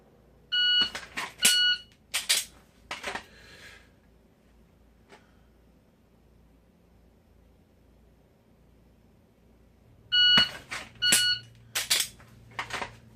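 An electronic shot timer sounds short, sharp beeps in two bursts, a cluster near the start and another after a long quiet gap, loud and close in an otherwise still room.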